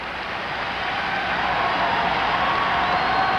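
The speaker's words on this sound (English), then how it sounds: "And the crowd again collectively rising to their feet." Steady roar of a basketball arena crowd at a 1987 Missouri game, cheering as fans rise to their feet, a broad continuous wash of noise that swells slightly and holds without a break.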